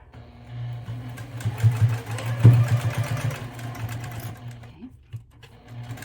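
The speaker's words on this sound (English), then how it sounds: "So let's head over to the sewing machine. Okay, now we're going to start." A sewing machine stitches the seam of a fabric container with a 1/2 inch seam allowance. The steady mid-pitched motor whir runs close and alone, with brief surges in speed before it stops near the end.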